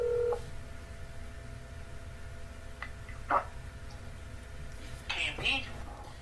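A phone keypad sounds a few touch-tone beeps at the start, followed by soft clicks and handling noise, with faint whispering in the background.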